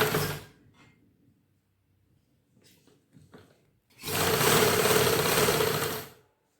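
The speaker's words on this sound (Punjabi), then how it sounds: "ਇੱਥੇ ਇੱਕ ਸਲਾਈ ਲਾ ਦਾਂਗੇ" A sewing machine runs a loud, steady two-second burst of stitching on a ladies' suit, preceded by faint handling and fabric rustling.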